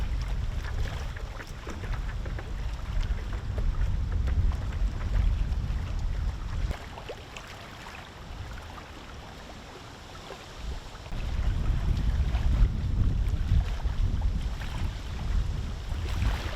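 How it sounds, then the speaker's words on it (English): Gusty wind buffeting the microphone out on the Florida Indian River while paddleboarding, a loud low roar that drops away briefly midway and then surges back, with faint water movement beneath. "It is a little windy."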